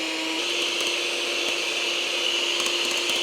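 An electric mixer whirs steadily in a kitchen, mixing for strawberry shortcake, a constant motor drone with a high, bright edge and no voices over it.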